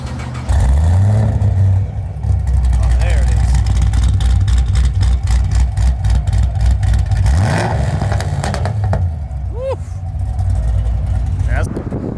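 A modified sixth-generation Chevrolet Camaro with an intake and long-tube headers, running without exhaust, revs hard in loud repeated bursts that rise and fall over a constant deep engine drone, with people talking in between.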